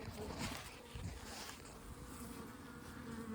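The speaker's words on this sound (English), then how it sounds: "Lots of bees moved up." A dense, steady buzzing of many honey bees close by at a hive, a continuous hum with occasional louder passes.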